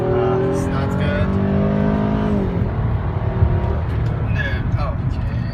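A Ford Fusion V6 SEL engine drones and falls in pitch as the car drives and slows, close and steady, with someone talking over it.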